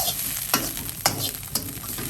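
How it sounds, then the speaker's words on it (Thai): Rice and carrots stir-fry in a pan for salted fish fried rice, a continuous sizzle broken by three evenly spaced scraping strokes of a utensil, close and with no voices. "ค่อยๆผัดไปเรื่อยๆ ให้ข้าว กับแครอทเนี่ยเข้ากันดี"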